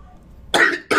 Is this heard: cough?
yes